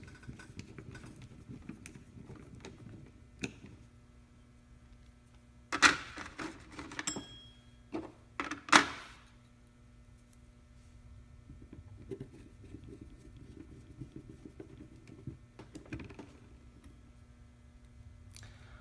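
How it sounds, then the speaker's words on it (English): Small metal screws being driven back into the speaker housing of a pair of Beats Solo HD headphones, heard as a few sharp clicks and ticks clustered in the middle over a low steady hum, with quieter handling before and after. "Let's go ahead and get these screws all put back in place."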